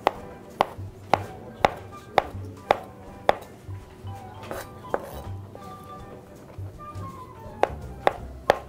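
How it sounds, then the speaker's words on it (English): A knife slicing pre-cooked sausages on a board: a string of sharp, close chops at a steady pace, pausing midway, then a few more cuts near the end, with faint kitchen clatter underneath. "you're just going to slice them up."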